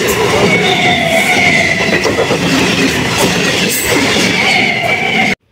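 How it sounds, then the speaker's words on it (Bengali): A train arriving at a railway gate near Kulpi, a loud continuous rumble of rolling wagons with rhythmic wheel clatter close by, cutting off abruptly at the end. "ওই দেখতে পাচ্ছ ট্রেন আসছে"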